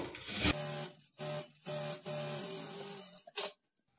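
A sewing machine stitches a folded one-inch strip of saree cloth into frills, sounding as several short, even mechanical runs broken by brief pauses.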